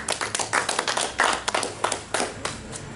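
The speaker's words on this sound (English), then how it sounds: "Give him a big round of applause," Scattered audience clapping at a U.N.I.A.-ACL gathering, irregular and fairly close, with individual hand claps standing out rather than a dense roar, rising and thinning across the stretch.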